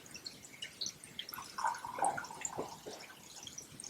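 Water trickles and drips into a flower vase, quiet and close, with soft splashing and a few brighter plops in the middle.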